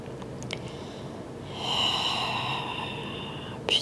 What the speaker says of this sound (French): Encore une dernière inspire et longue expire.